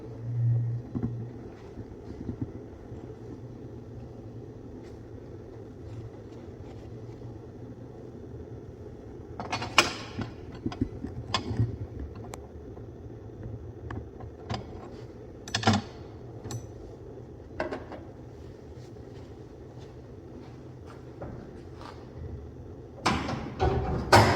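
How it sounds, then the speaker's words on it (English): The big hood of a 1958 Oldsmobile is raised, bringing scattered metallic clunks, creaks and a few sharp knocks from the latch and hinges over a steady low hum. "get this big old hood up"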